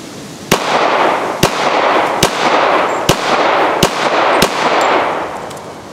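.40 caliber pistol shots firing 155 grain Expansion Industries flat-nose jacketed bullets at a target on a shooting range: six sharp, loud reports at a fairly steady pace, each cutting through a constant background rush.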